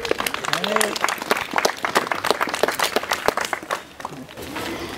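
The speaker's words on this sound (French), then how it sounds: "je vous demande de les applaudir bien fort, s'il vous plaît" Audience applause at an anniversary celebration in Koumac, a dense patter of clapping with voices and crowd chatter mixed in, easing briefly near the end before picking up again.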